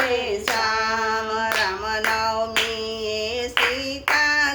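Hands clap in a steady beat about once a second during a Ram Navami devotional bhajan, each sharp clap cutting through continuous sung melody and music.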